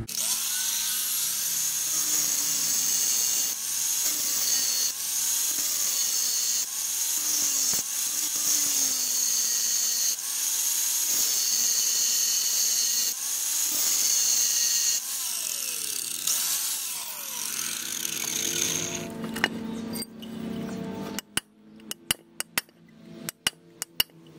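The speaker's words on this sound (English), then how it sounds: "cut in here with just a 4-inch grinder without hitting the torque converter" A 4-inch angle grinder whines loudly and steadily for most of the clip, cutting a torque converter rivet on a 1980 Dodge 318 727 transmission, then cuts out, leaving scattered metallic clanks and sharp knocks near the end.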